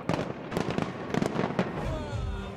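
A New Year fireworks display at the London Eye crackles and booms in rapid loud bursts, followed by a fading rumble and whistling trails.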